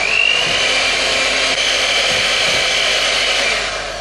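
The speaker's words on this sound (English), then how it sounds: "I'm going to put it on a nice slow setting now, my mixer, and blend that all in." An electric mixer on a slow setting blends cocoa powder into chocolate batter for a chocolate log, a loud steady whirring drone close by for the whole stretch, with no voices.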